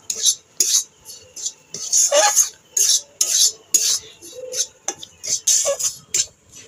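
Semolina and flour dry-roasted in a pan for nikuti sweets. A utensil pushes them around in loud, rhythmic scraping strokes, about two per second, close up and alone.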